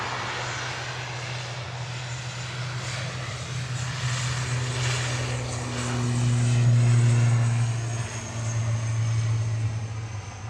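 A Finnair airliner from Helsinki arrives at Manchester Airport, its engines a steady low roar that swells in the middle and eases slightly toward the end, heard from a distance without talk.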